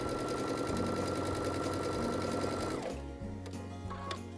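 A Baby Lock Chorus sewing machine stitches a mitered quilt binding seam in one fast, steady, close whir, then slows and stops, followed by a few quieter mechanical clicks.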